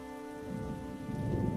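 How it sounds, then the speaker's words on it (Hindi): Heavy rain falls outside in a steady, loud wash, swelling slightly toward the end, with no voices. "बाहर बारिश लगातार होती रही।"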